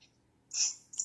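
A single close, quick sneeze, a short sharp hiss followed by a softer second burst, alone in a quiet room.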